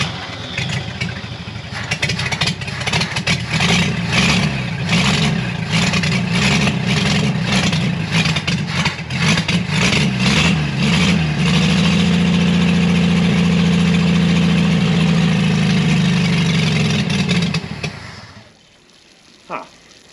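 Chevrolet Blue Flame Stovebolt Six engine on a test run, cranking and firing into a loud, rough idle with a steady low rumble that runs for most of the clip before cutting off abruptly near the end.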